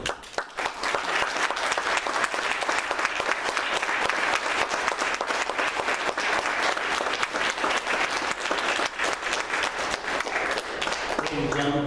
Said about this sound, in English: please join me in a round of applause for our veterans